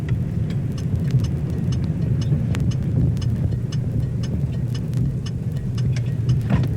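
A car turning left during a driving lesson, a steady low engine and road rumble with a regular faint ticking over it, like a turn signal, and no talk.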